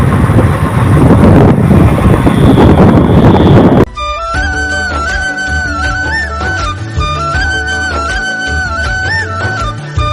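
Wind blows hard beside the Brahmaputra river, buffeting the microphone with a loud, steady roar for about four seconds before music abruptly takes over.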